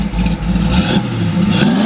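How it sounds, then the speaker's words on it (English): A 1969 Pontiac Firebird's deep, lumpy cammed V8 rumbles steadily at idle with a choppy cam lope through dual exhaust, loud and close, no voices. "Got a nice little cammy sound to it. Nice dual exhaust all the way out the back."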